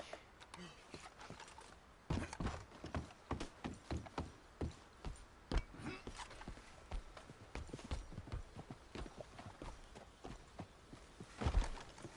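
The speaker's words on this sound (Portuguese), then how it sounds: "Cavalo super obediente." Horse hooves clip-clop steadily in Red Dead Redemption 2, a brisk, even rhythm of sharp, close strikes running throughout, with a few louder knocks near the end.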